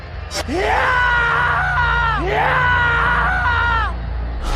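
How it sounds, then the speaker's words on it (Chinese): A person lets out two long, loud, wavering screams one after the other, with a short gasp just before the first and a steady background hum underneath, during a murder-mystery party game. "为什么有人惨叫呢？"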